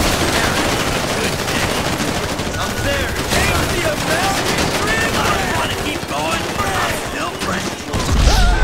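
Continuous heavy gunfire during a GTA 5 shootout, overlapping automatic bursts that stay loud and dense from start to finish, with voices mixed into the din.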